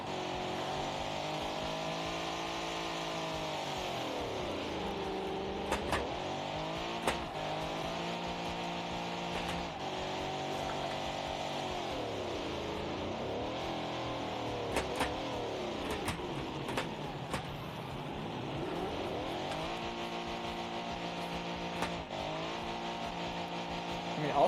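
A car engine in the Automation driving game, humming and rising and falling in pitch as it revs through gear changes, steady and moderately quiet throughout.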